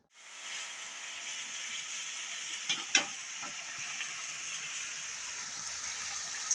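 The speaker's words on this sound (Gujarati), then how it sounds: "વઘાર ચાલુ કરી દીધો એને હા બધું નાખી દીધું છે ટમેટા મરચાં ડુંગળી" Tempering of tomatoes, chillies and onions in hot oil, a continuous soft sizzle and hiss with a couple of brief sharper crackles partway through, no talking.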